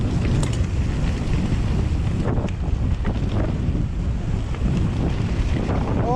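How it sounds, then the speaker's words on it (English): Strong gusting wind roars and buffets the microphone nonstop on the Cafall Trail at Cwmcarn, a dense rushing noise with no voices. "Oh, it's so windy."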